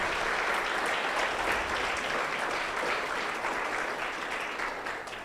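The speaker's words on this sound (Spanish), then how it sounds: "Dale un fuerte aplauso a él." A congregation applauds in church, a thick, sustained roar of many hands clapping at steady volume that tapers slightly toward the end, with no speech over it.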